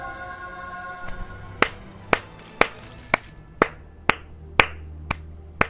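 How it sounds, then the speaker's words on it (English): A slow clap sound effect from The Binding of Isaac plays as about nine sharp, evenly spaced claps roughly half a second apart, each ringing briefly over a soft, steady game background. "That's the slow clap there."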